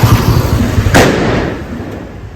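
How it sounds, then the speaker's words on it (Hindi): A Bahubali bomb firecracker bursts with one sharp loud bang, its crack ringing and decaying over the following second above a steady outdoor background rumble. "ये अभी हम एक टेस्ट भी करेंगे, देखते हैं इसका कितना धमाका है।"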